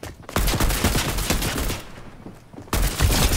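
Rapid bursts of shotgun fire in the Fortnite video game, several loud sharp blasts in quick succession, a brief lull, then another blast, heard up close with no talk over them.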